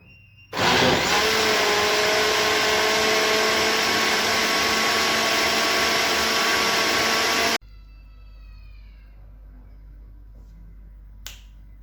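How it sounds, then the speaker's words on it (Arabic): An electric blender mixing Moroccan baghrir batter roars loudly and steadily for several seconds, then cuts off abruptly, leaving a faint hum and a small clatter. "كنديروا في الطرف الخلاط الكهربائي"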